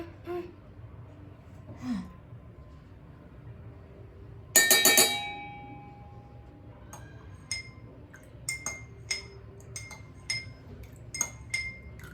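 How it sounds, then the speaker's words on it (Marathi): A metal spoon clinks against a glass of milk while lifting off the skin, giving one bright ringing strike followed by several lighter, scattered taps at close range in a quiet room. "चमच्याने काढते तिला"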